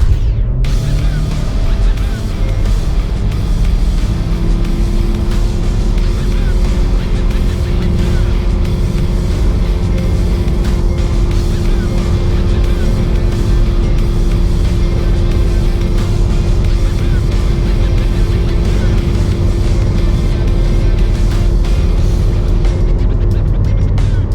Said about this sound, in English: from 80 towards 120, 130, this is how quick the Hector is coming up on your screen